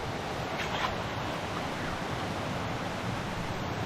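Water rushing through an irrigation canal, a steady broadband roar that stays constant and fairly faint, with no breaks from start to finish.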